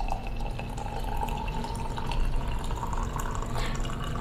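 Boiling water is poured from a kettle over loose tea leaves into a large glass vessel or teapot at a tea bar, a soft steady trickle and splash running close by.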